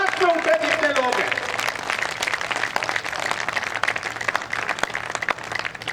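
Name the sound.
audience applause at a poetry gathering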